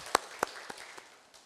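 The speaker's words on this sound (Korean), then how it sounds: "우리 다 같이 우리 영광의 박수 주님께 드리겠습니다" A church congregation finishes applauding during a Korean Sunday worship service marking 65 years: a few scattered, distinct claps ring out in slowing succession and fade to near quiet.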